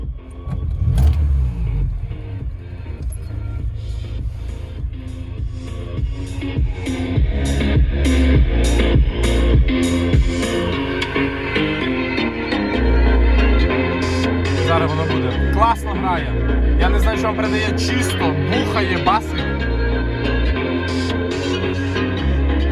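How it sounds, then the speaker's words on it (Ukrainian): A VAZ 2106 Zhiguli engine cranks and settles into a rough, rumbling idle in cold weather, with a person talking over it for most of the stretch. "Я заведу, що вакуум не сів, ну бо це Жигуль."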